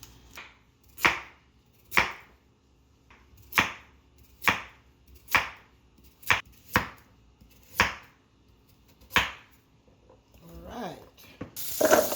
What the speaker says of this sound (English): I'm going to peel my carrots and I'm going to cut them up.